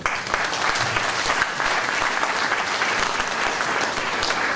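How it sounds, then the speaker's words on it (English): An audience at a hospital gathering in Sibu breaks into loud, steady clapping that runs continuously from start to finish. "You better give a clap for that."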